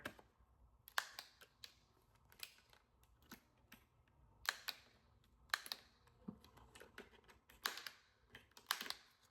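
A handheld corner rounder punch trims the edges of a laminated photo, giving sharp, quiet clicks and snips spaced irregularly, some in quick pairs, close by with no talking.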